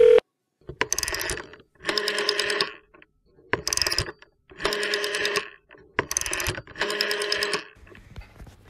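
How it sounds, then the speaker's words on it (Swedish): An old telephone set rings with a bright, rattling mechanical bell, five long bursts separated by short silences, loud and near, with no talking over it. "Der tror jeg faktisk telefonen ringer."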